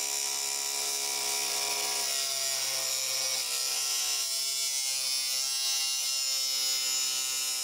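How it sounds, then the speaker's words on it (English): A cordless grinder cuts a keyway into a lower wheel shaft, giving a steady high-pitched whine with a harsh grinding rasp that holds loud and unbroken throughout. "the easiest way for me to do that is to use the cordless grinder"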